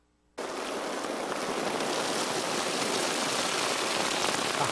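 Rain falls on an oiled paper umbrella (jiusan), starting abruptly and then holding as a dense, even patter of close drops that continues steadily without a break.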